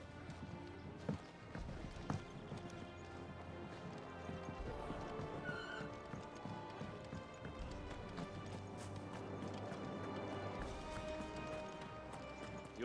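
Horse hooves clip-clopping and a whinny in the video game Final Fantasy XVI, with quiet, steady hoofbeats running throughout, a brief neigh partway through and a game music bed underneath.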